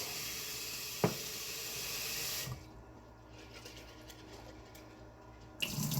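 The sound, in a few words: rinsing sprouts under running tap water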